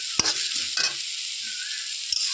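Sugar being stirred in a pan while making paneer sweets, with a steady background sizzle, a few scraping strokes of the spoon, and a light knock against the pan.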